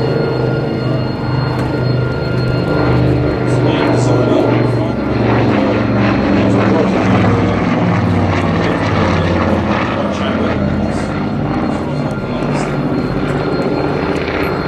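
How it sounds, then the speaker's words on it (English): An aircraft powered by Armstrong Siddeley Cheetah 15 piston engines drones steadily and loudly at an air show, a continuous throbbing propeller roar with no break. "Those engines, Armstrong Sidney engines, they're the Cheetah 15 engine in there."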